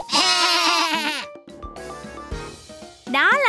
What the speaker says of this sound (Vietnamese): Đó là tiếng kêu của bạn cừu với bộ lông xù.